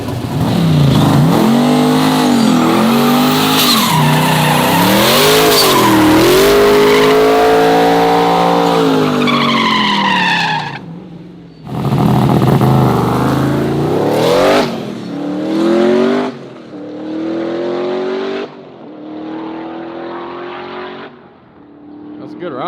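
A twin-turbo C8 Corvette at a drag strip launches hard and accelerates, its engine note climbing through gears loudly and up close for about ten seconds, then dropping into quieter revs with short bursts afterward.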